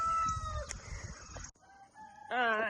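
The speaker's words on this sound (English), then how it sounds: "We're gonna let the chickens out." Chickens cluck and a rooster crows nearby in a short burst of farmyard sounds.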